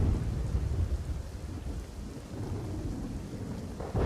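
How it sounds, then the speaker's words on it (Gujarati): Monsoon rain falls steadily in Dahod district, Gujarat, with a deep rolling rumble of thunder underneath, loud and constant across the short stretch. "છેલ્લા 24 કલાકથી જે વરસાદ છે તે અવિરતપણે વરસી રહ્યો છે"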